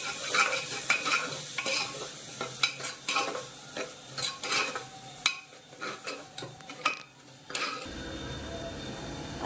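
A ground spice paste being stirred in a pan for dal vajri makes a series of close scraping strokes over a light sizzle, with irregular bursts of spatula noise that drop to a quieter hiss near the end.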